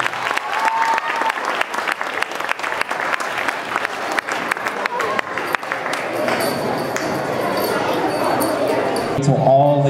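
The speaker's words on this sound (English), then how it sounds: "we'll have the crowd give you a big round of applause." Crowd applause at a gymnastics invitational awards ceremony in an arena, steady dense clapping throughout, louder and more diffuse toward the end with a brief tonal sound at the close.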